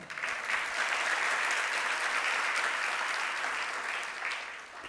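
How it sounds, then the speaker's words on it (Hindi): An audience at a Jain religious discourse breaks into steady, dense applause that holds for several seconds and tapers slightly at the end. "आप भी ताली बजा करके भक्ति तो करते हैं।"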